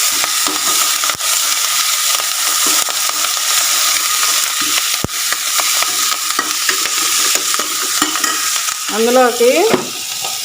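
Ponnaganti and gongura leaves frying in a little oil on a low flame, a steady close sizzle with stirring scrapes throughout, a brief voice near the end.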